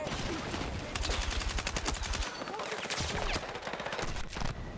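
Rapid shotgun and weapon fire in Battlefield 6, dense repeated blasts over a busy battle din, with a player's voice talking over part of it.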